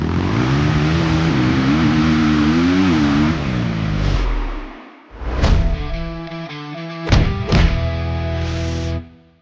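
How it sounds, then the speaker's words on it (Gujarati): A GJ49 bike's small 49cc two-stroke engine hums steadily, then cuts out and fires back up with sharp revving bursts that rise and fall, loud and close. "આ બાઇકમાં આવે છે 49cc નું 2-સ્ટ્રોક એન્જિન"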